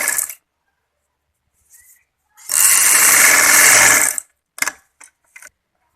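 Electric sewing machine stitching the sleeve seam of a shirt, one steady whirring run of about two seconds with short clicks and fabric handling before and after, no talk over it.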